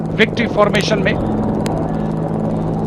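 Three Apache helicopters flying past in formation near India Gate at the Republic Day parade, a steady low rotor drone filling the background while a commentator speaks over the first second.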